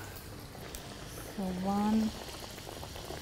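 Bedmi poori fries in hot oil, bubbling steadily and briefly swelling louder in the middle while a person talks over it.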